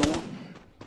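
Gunfire in the battle royale game Free Fire, a quick burst of two or three close shots followed by fainter trailing reports, all within under a second.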